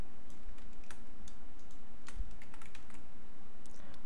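Computer keyboard typing in a short, sparse run of soft clicks over a steady low hum, close by with no speech.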